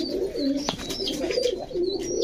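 Domestic pigeons coo in repeated low, throaty rolls, fairly close and steady, with a few faint higher chirps mixed in.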